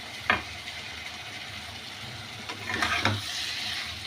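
Prawn and watermelon curry cooking down in a pan gives a steady low sizzle, with a couple of brief scraping stirs around the middle and near the end, no talking.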